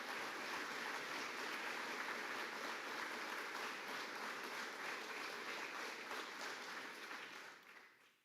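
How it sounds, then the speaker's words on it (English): An audience at a National Honor Society induction ceremony gives a sustained round of applause for veteran members, dense, even clapping that holds steady and then fades out at the end. "join me with a round of applause in thanking our veteran NHS members"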